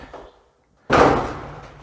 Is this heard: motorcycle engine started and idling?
no